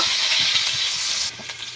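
Garlic and onion frying in hot oil, a loud dense sizzle with stirring knocks that suddenly drops to a quieter bubbling hiss, close up, no talking.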